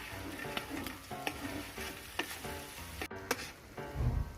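Chopped onion sizzling in a paella pan, a soft continuous frying hiss dotted with light ticks and scrapes of stirring, and a heavier rumble toward the end.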